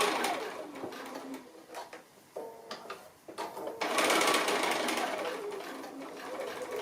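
Sewing machine stitching fabric holly leaves for a Christmas craft project, a steady close mechanical whirring with short pauses and restarts, louder and continuous in the second half.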